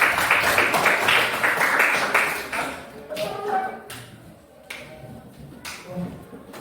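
Group applause in a classroom for a presenting discussion group during a teacher coaching session: dense, loud clapping from many hands for about two and a half seconds, then thinning to scattered, fading claps.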